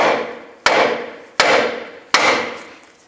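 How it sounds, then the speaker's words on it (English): Three sharp metallic hammer taps on a tie rod end of a Nissan Xterra, evenly spaced about a second apart, each ringing briefly before fading, close by with no talking. "you can just take a hammer, give it a tap right here"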